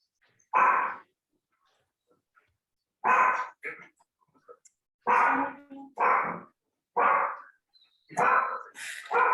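A dog lets out loud, close barks in irregular bursts, single barks and quick pairs separated by short pauses, heard indoors with no talking over them.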